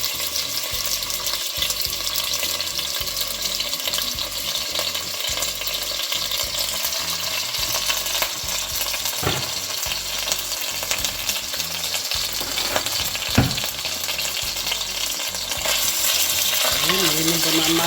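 Beef for Ethiopian tibs fries in a hot pan with a continuous crackling sizzle, broken by repeated scraping and stirring strokes, close and steady throughout.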